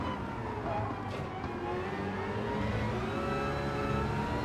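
A Citroen race car in Gran Turismo 7 accelerates hard, its engine note climbing steadily in pitch with rising harmonics. The whine is continuous and fairly loud under a steady background of track noise.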